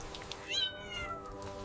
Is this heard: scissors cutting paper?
no